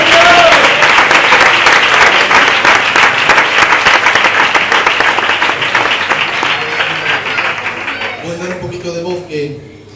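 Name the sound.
church congregation applauding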